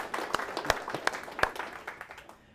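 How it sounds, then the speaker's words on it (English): Industry seminar audience giving a round of applause, moderate clapping with several distinct louder claps, fading away at the end. "I think we should actually have one more round of applause just for our industry, right?"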